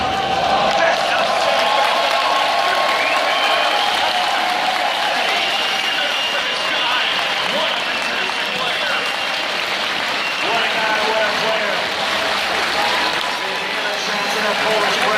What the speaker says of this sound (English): You can hear the crowd chanting for this guy